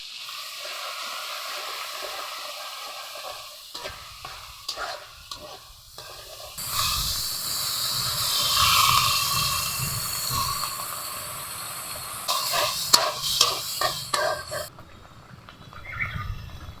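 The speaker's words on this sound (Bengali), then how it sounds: "এটা আমি তেলের মধ্যে এখন দিয়ে" Coconut paste with dried chillies, onion, garlic and cumin paste hits hot oil, breaking into a loud bright hiss after a quieter start, then a steady sizzle that tails off with a few stirring clatters.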